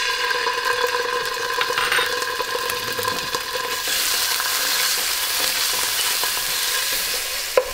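An anchovy melts into warm oil in a pan, a steady close sizzle and frying crackle with occasional stirring scrapes, with no talk.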